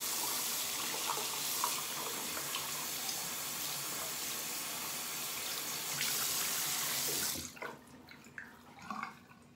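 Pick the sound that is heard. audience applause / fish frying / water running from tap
water running from tap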